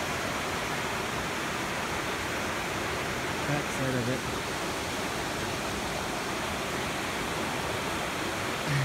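A river flowing steadily outdoors, a constant broadband rush that fills the whole stretch, with someone speaking briefly over it.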